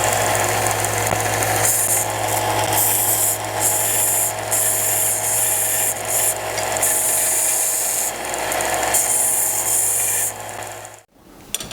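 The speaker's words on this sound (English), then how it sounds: "A little cleanup on a belt sander." A belt sander cleans up a cut piece of stainless steel, a loud continuous gritty roar with brief fluctuations that runs steadily for about ten seconds before cutting off abruptly.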